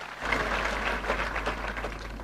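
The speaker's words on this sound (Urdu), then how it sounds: "بھرپور تالیوں میں استقبال کیجیے وزیر داخلہ جناب شیخ رشید احمد۔" A crowd at a police passing-out parade applauds to welcome the interior minister, a dense, steady patter of many hands clapping that lasts a couple of seconds over a low hum.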